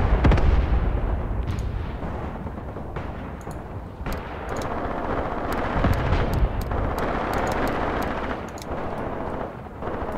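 Enemy mortar fire in a Graviteam Tactics battle, a continuous roar of booming artillery blasts and rumbling explosions, with crackling impacts scattered throughout and no voices.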